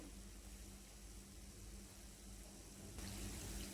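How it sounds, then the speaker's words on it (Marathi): Water drains through a sieve from soaked green chillies, cashews and poppy seeds, a soft continuous trickle that swells slightly toward the end. "यातलं पाणी आपल्याला फक्त काढून घ्यायचं आहे जेणेकरून खसखस काजू हे वेगळे होतील"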